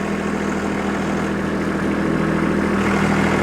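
Compact tractor engine holding around 1500 RPM while grading dirt with a front end loader: a loud, steady, even drone with no breaks.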